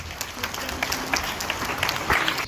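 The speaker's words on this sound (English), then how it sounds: "Please give them a huge round of applause." A school investiture ceremony audience gives a round of applause as house in-charges come onto the stage, with steady, dense clapping throughout and faint voices mixed in.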